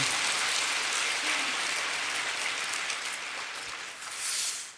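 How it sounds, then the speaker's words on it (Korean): A church congregation at an autumn dawn revival service breaks into applause of glory to God, a continuous hissing patter of many hands, fairly distant and even throughout. "하나님께 영광의 박수 올려드립니다"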